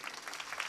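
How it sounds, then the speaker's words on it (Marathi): An audience claps at a Marathi kirtan in Satara, a brief, dense burst of many hands at steady volume with no voices over it. "टाळ्या वाजवा ना जोरदार."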